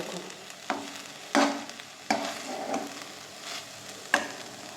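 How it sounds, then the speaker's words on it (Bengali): Rice being mixed with spice masala in a pot for prawn biryani, a quiet bed of faint sizzling broken by several sharp spoon scrapes and clinks at irregular intervals. "তলের ভাতটাকে মশলার সঙ্গে ভালো করে মিশিয়েছি"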